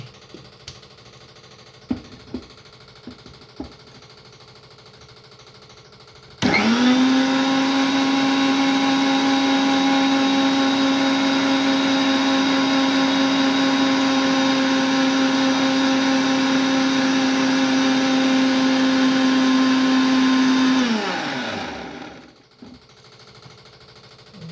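A mixer grinder whirs loudly and steadily for about fifteen seconds while grinding chutney for dosa, starting abruptly and then winding down, with faint clicks and kitchen handling noises before it starts.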